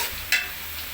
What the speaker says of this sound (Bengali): এখন দিয়ে দিব চিংড়ি মাছ,